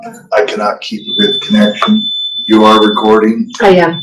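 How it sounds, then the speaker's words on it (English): A building fire alarm sounds during a hospital district board meeting: a steady, high electronic tone starts about a second in and continues to the end, beneath several people talking. "Yeah, that's our fire alarm."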